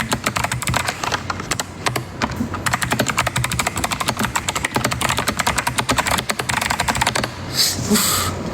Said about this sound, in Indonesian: Kalian suka gak sih mendengar keyboard?